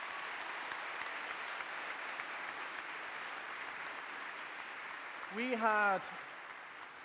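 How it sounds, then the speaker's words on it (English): A hall full of young science-exhibition entrants at an opening ceremony gives a long, even round of applause, a soft steady wash of clapping. A voice briefly speaks over it near the end. "So give yourselves a huge round of applause."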